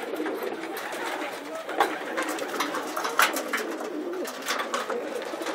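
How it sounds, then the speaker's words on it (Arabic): Pigeons coo softly and repeatedly at close range in a loft, with occasional wing flutters and a faint background murmur. "الحمام قليل ولكن من المستوى الرفيع"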